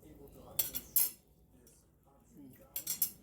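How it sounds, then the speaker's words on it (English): A spatula works through softened, buttered rutabagas in a pot. A few soft clinks and scrapes of the utensil against the pot come in two brief bursts with quiet pauses between. "I'm just taking my spatula here, just going through them just like that"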